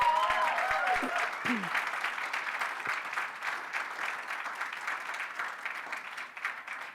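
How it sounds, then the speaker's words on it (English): An audience at a book publishing awards event applauds steadily, dense clapping that runs throughout while a voice briefly speaks over its opening moments. "You can clap for them."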